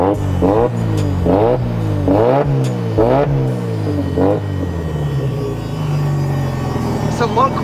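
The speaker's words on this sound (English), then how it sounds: "I'll give it a rev." Drift car engine revved repeatedly, several sharp close blips rising and falling in quick succession, then settling to a steady idle, with talking heard over it.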